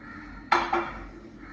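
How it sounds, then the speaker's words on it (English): A metal pan set down on a gas stove clanks sharply once, followed a moment later by a second lighter clink, close and clear over a quiet kitchen hum. "So take your pan, put it on the gas, put again olive oil"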